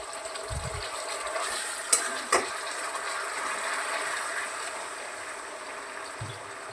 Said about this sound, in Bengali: একটু ভালো করে নাড়াচাড়া করে তারপর জলটা দেবো